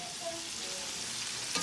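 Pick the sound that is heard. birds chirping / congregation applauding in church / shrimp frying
shrimp frying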